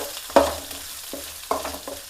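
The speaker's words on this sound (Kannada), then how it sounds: "ಸೊ ಈ ಥರ ಫ್ರೈ ಮಾಡಬೇಕು." A chili mixture frying in a pan, giving a steady low sizzle. A few scraping stir strokes rise out of it at irregular moments, and no one talks.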